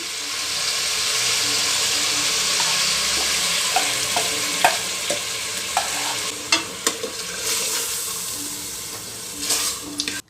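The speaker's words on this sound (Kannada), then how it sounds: "ಈಗ ರುಬ್ಬಿರೋ ಅಂಥ ಮಸಾಲೆ ಸೇರಿಸ್ತೀನಿ" Ground masala frying in oil with chicken in a pressure cooker, a continuous sizzle broken by scraping and clinking as the mixture is stirred, close by.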